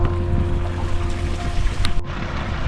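Hot spring water flows steadily at Parvati Kund in Kheerganga, a continuous rushing wash that holds at close range before cutting off abruptly near the end.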